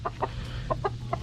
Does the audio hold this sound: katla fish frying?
no